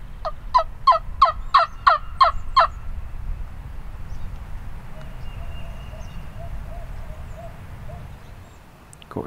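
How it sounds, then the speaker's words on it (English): Wild turkey gobbling in Kentucky woods: a rapid rattling gobble of about eight quick pulses at moderate distance, followed by quiet ambient outdoor hush with a faint distant tone. "I thought I heard one gobble that way"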